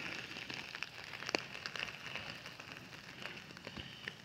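Light rain pattering on surfaces after a storm at a waterfront camp in Quartzsite, near a 13ft Boler trailer; a steady soft hiss with scattered drips and sharper ticks throughout, fairly quiet and with no talk.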